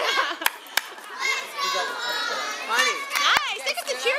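Children cheer from the audience at a live quiz-style show, loud excited shouts, whoops and squeals in a continuous burst, with a few sharp claps popping through the crowd noise.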